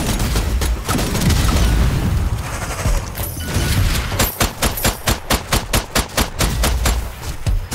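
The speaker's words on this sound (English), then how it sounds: "Grenade away." Explosions and heavy gunfire ring out in the video game Strange Brigade, with a dense burst of blasts followed by a loud, rapid, evenly spaced string of shots close by.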